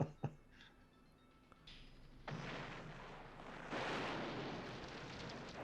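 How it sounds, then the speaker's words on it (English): An on-screen explosion set off by a laser in a 1986 film: a sharp early pop, then a broad rumbling blast that swells and roars louder toward the end, with no talk over it. "I do love the fact that apparently a laser creates an explosion."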